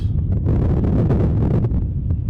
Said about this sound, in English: that wind is really starting to blow up this